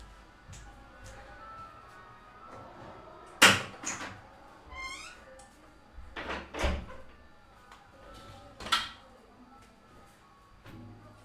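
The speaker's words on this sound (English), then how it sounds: "Let me close the door." A door is shut in a home while a prayer ceremony goes on elsewhere in the house. Scattered knocks and clunks build to a louder thud midway, followed by more handling bumps, all fairly close and without speech.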